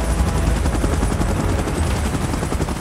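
A helicopter in the video game PUBG Mobile gives a loud, steady rotor roar with a rapid chopping pulse, continuous throughout with no talk.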